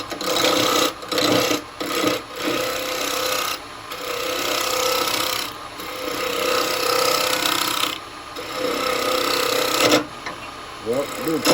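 A bowl gouge shears wet wood spinning on a lathe, giving a loud, continuous rasping cut that swells and breaks off in repeated passes, with someone talking over it.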